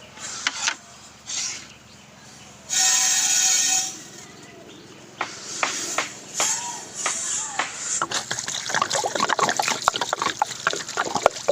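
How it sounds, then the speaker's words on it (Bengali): Raw meat being rinsed in clean water in a home kitchen: a trickling splash, then a loud burst of running water followed by wet shuffling and sloshing as the pieces are rubbed and turned, close up. "মাংসটা আমরা পরিষ্কার জল দিয়ে সুন্দর করে ধুয়ে নেবো।"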